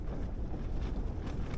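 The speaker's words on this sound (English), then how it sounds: "The other thing that's kept us awake is the wind." Strong wind buffets a tent at a solo camping pitch, a low roaring rush of gusts with fabric flapping and microphone buffeting, fairly quiet overall but continuous, with no voices.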